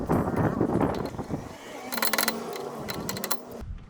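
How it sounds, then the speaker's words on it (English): A ratchet clicks in quick bursts while an axle nut comes off a 2000 Hyundai Elantra, close and fairly quiet, with rough handling noise between the bursts. "Removing this axle nut."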